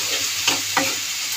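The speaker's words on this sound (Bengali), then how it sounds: "আবার একটু নাড়িয়ে নেব।" Radish greens and prawns fry in a pan and are stirred, giving a steady sizzle with two short scraping strokes from the spatula.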